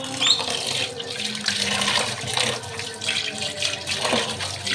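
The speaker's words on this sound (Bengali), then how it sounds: "এখন আমি এটাকে ধুয়ে নেব।" A soaked, salted radish is rinsed under a running tap, a steady close rush of water splashing into a sink throughout, with slight changes as it is moved under the stream.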